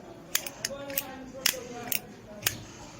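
A zippo-style lighter lid snaps open and shut in a quick run of about eight crisp metallic clicks, close up and spaced unevenly against a quiet background.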